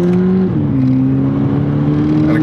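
A 2022 Volkswagen Polo GTI accelerates hard to overtake, its engine note loud and steady from inside the cabin, dipping briefly at a gear change before climbing again in a smooth rising drone.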